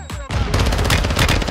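Loud rapid automatic gunfire from Call of Duty Warzone 2.0 bursts in after a brief lead-in, continuous close shots filling the rest of the moment.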